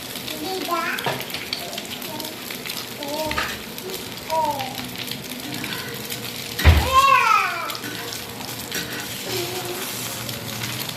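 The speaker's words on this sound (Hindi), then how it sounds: "फ्लेम मैंने हाई लो रखा है ताकि एग अच्छे से जी कुक हो जाए" Egg frying in a pan over a high-then-low flame, a soft steady sizzle running under a voice and children's chatter nearby, with a brief louder clatter partway through.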